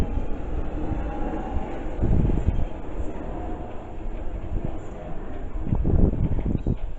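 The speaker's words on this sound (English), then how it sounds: "And here comes my train, it's the London Underground Jubilee Line, so it's bound for Stanmore." London Underground Jubilee Line train pulling into Dollis Hill station, a steady rumble and rail noise rising near and loud with some swells, no speech over it.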